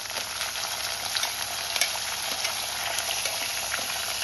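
Cashews and green chilies fry in oil in a pan, a steady, close, continuous sizzle with small crackles and pops throughout, no voices.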